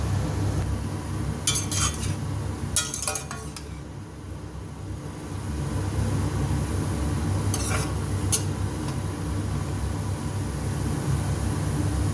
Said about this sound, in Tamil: இப்போ இந்த கீரையும் சேர்த்துட்டு ஒரு டூ மினிட்ஸ் இதை ஃப்ரை பண்ணிக்கலாம்